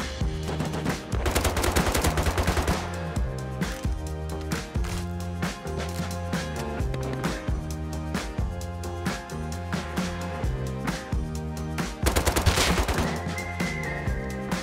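Rust video game gunfire from the new guns: repeated bursts of automatic shots crack out over a steady game music bed, with denser volleys near the start and again toward the end.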